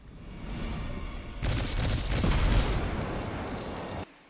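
Gunfire in a video game dungeon encounter: a dense burst of loud shots and booming rumble erupts after a steady low background and runs for about two and a half seconds before cutting off sharply.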